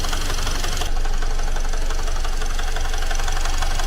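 Car engine making an abnormal rhythmic knocking noise right after an engine rebuild, a loud continuous rattling clatter close to the engine throughout.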